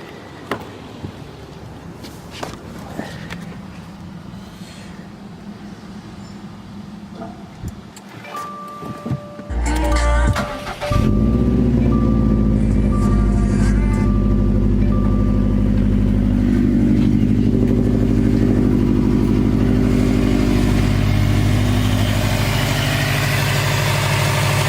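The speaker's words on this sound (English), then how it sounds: "we'll just run the engine now for a little while." A 2019 Subaru STI engine idling after an oil change, starting quietly and then settling into a loud, steady, close-up rumble that runs continuously without talk.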